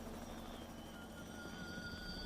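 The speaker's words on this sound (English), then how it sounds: "It's a helicopter." A helicopter passes overhead during a police response on a residential street, giving a steady, continuous rotor drone at moderate distance that holds level throughout with no voices.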